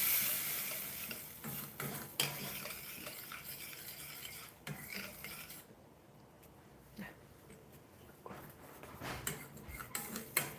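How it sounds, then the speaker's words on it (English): Tomatoes cook gently in a pan over a low flame, with a utensil scraping and stirring in irregular strokes and a soft sizzle beneath, fairly quiet with a calmer gap partway through. "so I'm going to put my tomatoes on a low flame."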